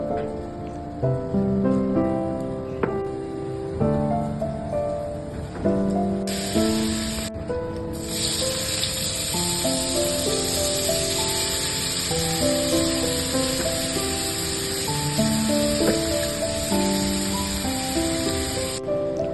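Sliced banana stem (thor) frying in hot oil with cumin, dried red chilli and bay leaf. A steady broad sizzle swells up partway through and carries on under background music.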